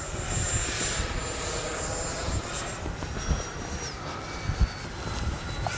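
An FMS 70mm Yak-130 RC jet with drop tanks makes a fast low pass into the wind outdoors, a steady loud ducted-fan whine with a falling pitch as it passes, no talk.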